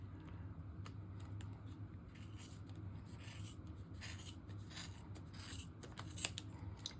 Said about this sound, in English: I'm going to take my scissors and I'm going to go ahead and I'm going to cut down the center